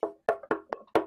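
Five hollow knocks on wood in an uneven rhythm, close and dry, each a short sharp tap.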